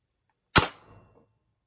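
A Tippmann TMC M4 carbine paintball marker fires one sharp, close, loud shot that decays quickly in an otherwise silent moment.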